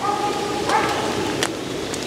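A hunting dog working a track on a squirrel hunt barks a few times at a distance, in short separate bursts over faint background noise.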